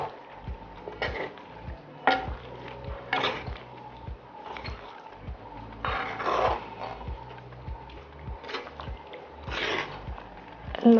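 A spoon scrapes and stirs chicken for a curry in a large pot, close and in repeated uneven strokes every second or so, each one a short scraping burst.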